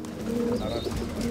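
Pigeons of a rare Bukhara breed coo in a steady, continuous throaty murmur close by, with faint background sound throughout.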